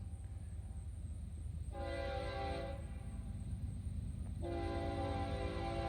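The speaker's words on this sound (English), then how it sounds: "NS freight coming on the old New York Central Conrail line" Eastbound Norfolk Southern freight train on the former Conrail New York Central line at Oak Harbor, Ohio, led by two NS locomotives, sounding two long loud horn blasts over a steady rumble of the train rolling past.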